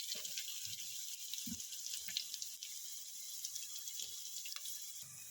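Garlic fries with chilies in a pan while making gobi manchurian, producing a soft, steady sizzle with a few low clinks from the pan, quiet and without talk.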